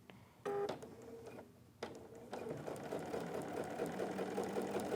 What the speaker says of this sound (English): And you just sew down the row of tucks.